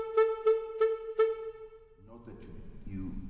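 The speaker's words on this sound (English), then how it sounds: "A note that you cut off with your tongue sounds like this." Four short repeated staccato notes on a wind instrument, likely saxophone, each cut off crisply with the tongue, followed by someone speaking.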